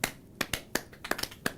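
Sparse, irregular claps from a small group, a handful of sharp separate hand strikes with gaps between them, fairly quiet and close.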